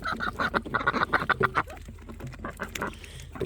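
Peking ducks quack repeatedly in a rapid, overlapping chorus, loud and close at first, then thinning into scattered, quieter calls.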